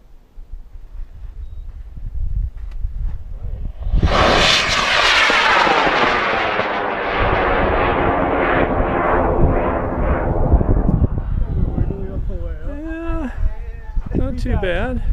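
An L-1150 KNSB sugar-propellant tube fin model rocket ignites with a sudden loud roaring burn that fades over several seconds as it climbs, heard outdoors, with people talking near the end.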